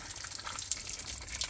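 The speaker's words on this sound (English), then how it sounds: "Seems like most of the water's running down this way. It's flowing down off the edge, off here." Rainwater running off the edge of a garden shed roof fitted with flashing, a steady close splashing trickle with no talk over it.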